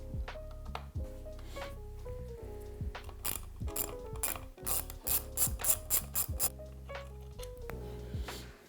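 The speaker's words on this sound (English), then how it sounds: "Next, we're going to need our 3mm Allen key, so grab that tool. And we're going to remove the drum brake retention pin from the side of the fork." 3mm Allen key working a drum brake retention pin out of the fork of a Pure Air electric scooter, close clicking and ratcheting metal turns with small taps and scrapes, irregular and fairly quiet.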